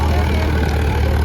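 A Pro Maxx 47 tractor in two-wheel drive pulls an 11-tine cultivator tilling deep, giving a loud, dense, continuous engine drone and field noise, close up.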